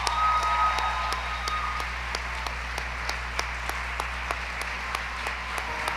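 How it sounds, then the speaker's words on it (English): A school music-awards audience applauds for Bella, a courageous young lady, with steady, fairly quiet clapping spread through the room and a few sharper claps standing out, continuing evenly throughout. "Let's give her a big round of applause, everybody."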